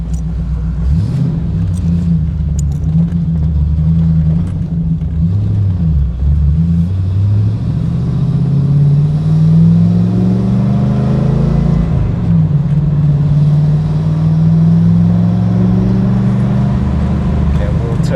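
A 1991 Camaro Z28 with a 5-speed manual and the G92 performance package pulls hard from inside the cabin, its engine and exhaust droning loudly with rising and falling pitch through the gears while people talk over it.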